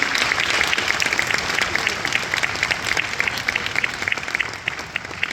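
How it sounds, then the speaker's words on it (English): Audience applause for orchestra camp students rings out steadily, a dense wash of many hands clapping at even loudness for several seconds with no talk over it. "So another round of applause for them."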